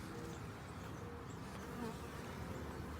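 Bees buzzing close by, a steady, faint droning hum with no breaks, nothing else audible.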